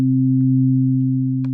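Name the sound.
two sine waves combined, Native Instruments FM8 synthesizer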